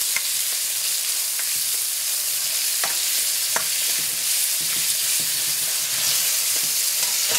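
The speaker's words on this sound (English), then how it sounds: "Now I'll put in the onion. Fry a bit." Chopped onion frying in a little oil in a pan for masala dosa gives a steady, dense sizzle throughout, with scattered clicks and scrapes from stirring.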